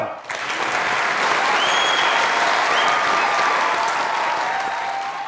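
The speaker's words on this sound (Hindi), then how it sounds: "स्टूडेंट्स अपने लिए तालियां" Studio audience at a comedy talk show bursts into loud, dense applause that starts abruptly and holds steady as a continuous wash of clapping to the end.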